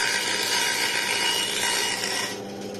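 A Metabo BAS 261 band saw slicing a very thin strip, one blade-thickness wide, gives a loud, steady, hissing rasp that runs unbroken and eases slightly at the end, with no voices.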